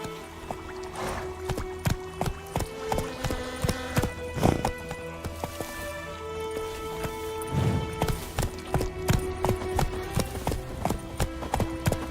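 A horse rides at pace in The Witcher 3 game world, with steady rhythmic hoof clip-clops close by, a brief whinny and a background music score underneath.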